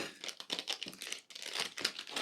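Plastic bag of a small prize product crinkling and rustling as it is torn open, a steady run of close, crisp crackles with a brief pause midway.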